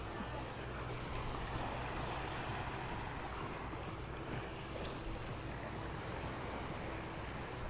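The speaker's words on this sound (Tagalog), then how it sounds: "Sobrang ganda talaga ng dagat." Sea waves wash continuously along a hot, sunny shoreline. The sound is a loud, steady roar of surf mixed with wind buffeting the microphone, and there are no distinct breaks.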